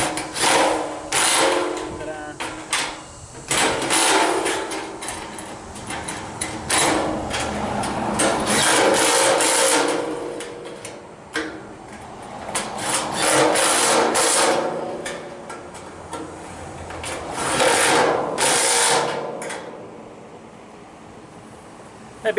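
An impact driver fitted with a socket drives screws into a homemade 55-gallon drum protein feeder, giving loud, close bursts of rattling hammering separated by brief pauses, repeating several times.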